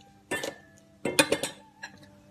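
Green mango salad tossed with dressing in a bowl, with ginger, shallot and chili: three short clusters of clinking and scraping utensil sounds against the bowl, close and clear, separated by pauses.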